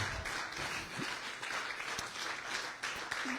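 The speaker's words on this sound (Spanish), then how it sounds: "Dele un aplauso al que vive y reina para siempre" A church congregation applauds in praise during a Spanish-language sermon, a faint, distant, continuous patter of many hands with a few sharper claps poking through.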